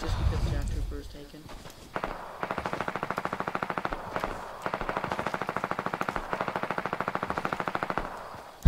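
Sustained automatic gunfire from the video game Fortnite rattles in long, evenly spaced rapid bursts, close and loud, after a brief opening of softer noise, ending with a sharp final hit.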